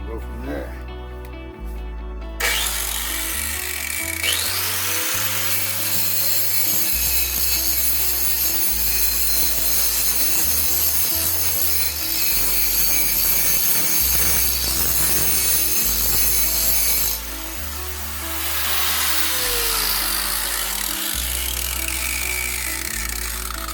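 An angle grinder cuts away a tube welded onto a new drag-car neck in a shop, a loud continuous grinding whine with a shifting pitch, steady for about twenty seconds with a brief break partway through.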